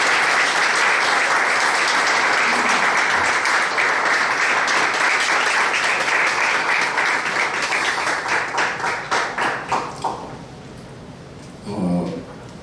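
A crowd at a Korean church press event applauds in a dense, sustained roar that gradually thins into scattered claps before dying away, followed by a brief murmur of voices.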